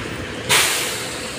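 A train in Catania in southern Italy passes with a sudden loud rush of hiss and rumble that cuts in and holds steady, close by and with no voices.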